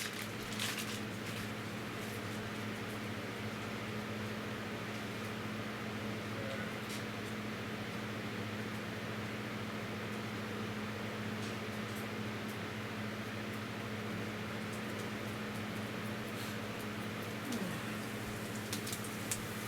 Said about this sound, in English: I'll turn that air conditioner thing off in a minute.